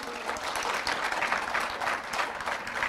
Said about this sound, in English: Another warm round of applause, please.